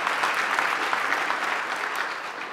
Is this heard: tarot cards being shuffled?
no